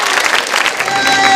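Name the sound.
applause from audience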